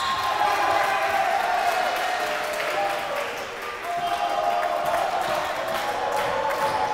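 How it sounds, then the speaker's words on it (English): A basketball crowd at a Sarachek 2024 tournament game between Flatbush and Fuchs Mizrachi roars and cheers steadily after a made three-pointer, a continuous gym-filling din with a commentator talking over it. "the Fuchs Mizrachi mayhem crowd is really getting into this one"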